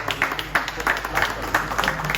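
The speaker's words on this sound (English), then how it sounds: "Make a big round of applause now for Chon Zepeda." A crowd at a boxing press conference applauds, with close claps crackling in uneven bursts for about two seconds as a voice carries faintly underneath.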